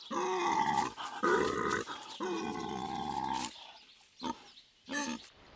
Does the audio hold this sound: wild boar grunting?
yes